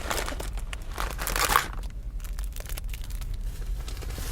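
A packet of Mama instant noodles is crushed and crumpled by hand, giving a run of close, crinkling, crunching plastic sounds that peak briefly midway, with no speech.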